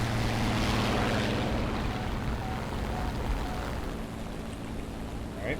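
A propeller aircraft engine in the War Thunder game drones loudly and steadily throughout, with a faint hum underneath and only slight dips in level.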